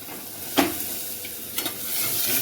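Garlic paste frying in hot oil with curry leaves for a bitter fenugreek curry, a soft steady sizzle with a few sharp clicks of stirring, moderately close and with no talking.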